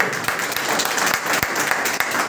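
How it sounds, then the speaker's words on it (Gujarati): An audience claps during a speech, producing dense, steady applause that holds at a constant level throughout and fills the hall. "એમના માટે તાળી થઈ"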